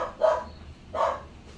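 A dog barks outside, two short woofs about a second apart, moderately distant and muffled, with no other sound.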